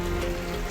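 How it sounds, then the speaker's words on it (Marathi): Heavy monsoon rain pours down in Raigad district as a dense, steady hiss of falling water, with no pause across the brief moment. "जिल्ह्यात सलग 6व्या दिवशी मुसळधार पाऊस पडतोय।"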